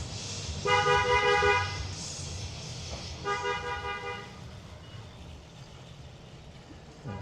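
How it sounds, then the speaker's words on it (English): Car horns honk in a Costco tire center parking lot: two long, loud blasts, the first about a second, the second shorter, over steady traffic rumble. "All that honking is Costco tire guys letting people know they're backing out."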